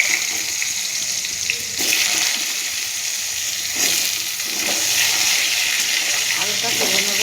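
Potatoes frying in a pan of hot oil, a steady bright sizzle with louder surges as pieces settle, continuous and close throughout.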